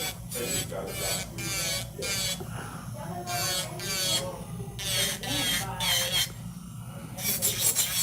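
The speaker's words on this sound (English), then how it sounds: "Just run my drill bit right through it." An electric nail drill whirs in repeated rasping bursts, starting and stopping in a steady rhythm, with faint speech in between.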